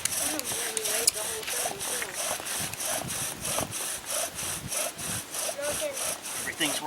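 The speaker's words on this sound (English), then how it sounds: "Y'all hear that hiss? It's kind of hissing." A hand-worked bow drill spins a spindle against a wooden fireboard, giving a steady back-and-forth rasping hiss of friction in even, repeated strokes, close and fairly loud throughout.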